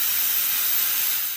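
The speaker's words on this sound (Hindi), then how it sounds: "तो इसकी जो थोड़ा नॉइज़ है वो आएगी, वो मैं आपको दिखाती हूँ जब ये सही से इसमें स्टीम फुल होती है" A Tefal pressure cooker hisses steam loudly and steadily while cooking chana dal, a constant close rushing jet with no talk over it.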